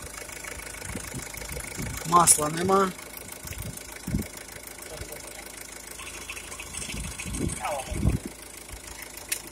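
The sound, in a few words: Renault Megane engine idling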